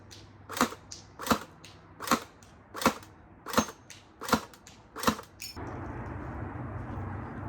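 A Tokyo Marui AA-12 airsoft shotgun fires seven sharp, evenly spaced shots at about two-thirds of a second apart, crisp and close, followed by a low hiss once the firing stops.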